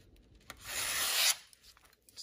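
A limited-edition WE Knives Upshot folding knife blade drags through material in a single rasping cut that swells over about a second, then stops abruptly. The sound is close and quiet, with no talking.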